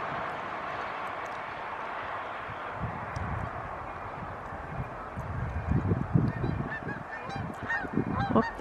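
A flock of geese honks in the distance, their calls growing louder and more frequent over a breezy outdoor hiss.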